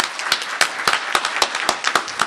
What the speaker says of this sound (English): Can I have a round of applause for these folks?